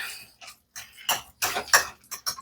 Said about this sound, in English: So we're going to use a fork because I don't have a whisk.